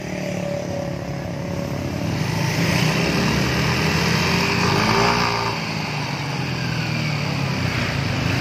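A Yamaha motorcycle with its stock exhaust revs up close and loud, the engine note swelling to a peak midway before settling back, with no talking.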